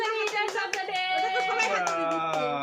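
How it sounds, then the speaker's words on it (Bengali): At a birthday party, a group claps in a steady rhythm of about two claps a second while voices sing along, the claps ringing out sharply over the tune. "হ্যাপি বার্থডে হাততালি দাও"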